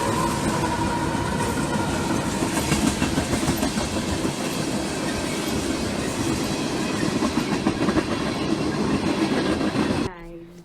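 Freight train K683 rolls steadily past, led by an EP-C45 AC CTE with an NS AC44 C6, a loud continuous rumble and rail rattle with clickety-clack throughout before cutting off abruptly near the end.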